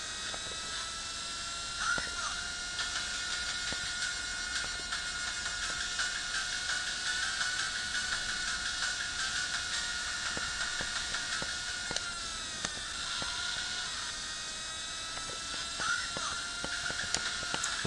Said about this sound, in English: this was jokingly referred to as Virtua Flymo because of the sound of the supposed Formula 1 engine